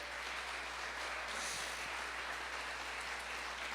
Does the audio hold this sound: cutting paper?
no